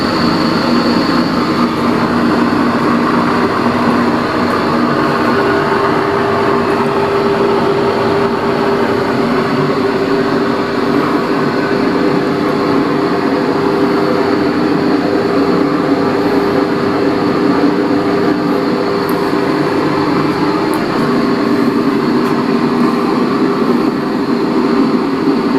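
A mini lathe runs with its automatic cutting feed switched on, giving off a loud, steady mechanical drone with a constant hum and a broadband whir that holds for the whole stretch with no talk.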